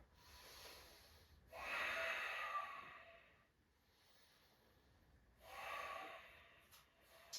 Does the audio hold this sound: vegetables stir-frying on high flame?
no